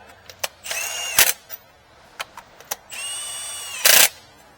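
A power tool whirs in two short bursts, gently running spark plugs down into the cylinder head of a second-generation Hyundai Tucson, with sharp clicks and taps between the runs, close up and with no talk.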